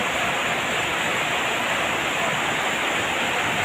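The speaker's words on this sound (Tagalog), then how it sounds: "Lakas ng ulan." A downpour pours steadily, a thick unbroken rush of water noise that stays loud and even throughout.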